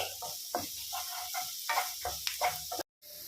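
Paneer fried rice frying in a pan, a constant hiss of sizzling with intermittent scraping and stirring knocks, close and steady before cutting off briefly near the end.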